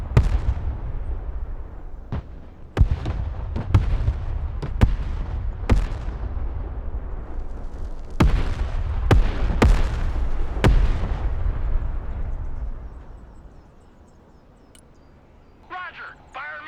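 Artillery shells from a fire mission explode one after another in the Broken Arrow war game, a string of heavy booms and sharp blasts with rumbling tails that fade out near the end, while a radio voice speaks over the barrage.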